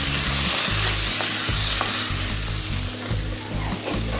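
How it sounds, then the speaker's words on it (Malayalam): Onion and tomato sauté loudly in a pan for beef varattiyathu, with a constant dense sizzle and a rhythmic scrape and clatter of stirring up close. "ഇനി തക്കാളിക്കായിട്ട് അതുകൂടെ നല്ലപോലെ ഒന്ന് വഴറ്റിയെടുക്കാം."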